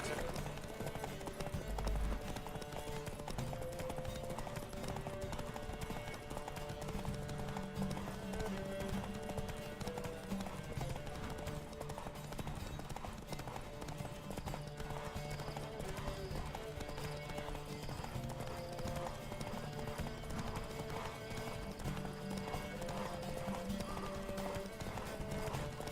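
Horse hooves gallop in a rhythmic clip-clop during a riding race in The Witcher 3: Wild Hunt, steady and close for the whole stretch under game music, with an occasional snort or whinny.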